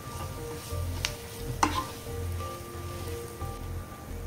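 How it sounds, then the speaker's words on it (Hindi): A potato filling is stirred with spices in a pan, giving a steady soft sizzle with rhythmic scraping strokes and a sharp tap of the utensil against the pan. "और मसाले के अंदर अच्छी तरह से मिक्स कर लेंगे।"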